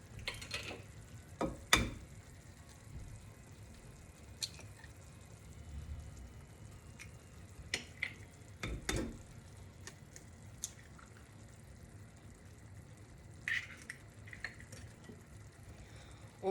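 Eggs and minced meat frying in a clay tajine, a soft steady sizzle with scattered pops and crackles, plus a few louder clanks and stirring knocks, close and quiet with no talk.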